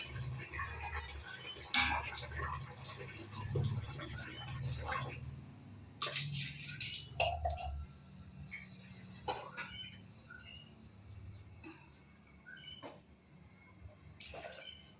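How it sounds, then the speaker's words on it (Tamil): Water poured into a pot of chana dal with green chilies while making tomato dal, a faint splashing rush in short bursts alongside light clinks of utensils against the pot in a quiet kitchen. "இன்னும் கொஞ்சம் தண்ணி ஊற்றுவோம்"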